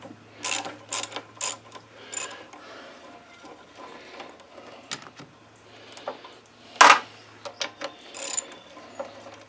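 Ratchet with a 3/8 socket loosening the carburetor on a John Deere JS60 push mower, a series of quick close clicking bursts with pauses in between and one sharper clack near the end.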